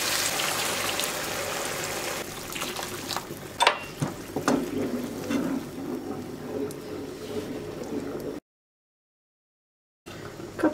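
Water poured into a pot of rice, two cups of rice to two and a half of water, a close steady splashing trickle with a few clinks, then a short silence and a brief return of sound.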